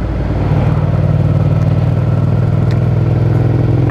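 Steady, loud engine hum from a Suzuki SV650 V-twin motorcycle holds a constant note for several seconds, with no voices over it.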